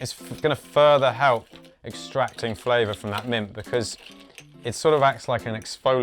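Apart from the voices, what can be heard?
No distinct noise like a dog, phone or traffic.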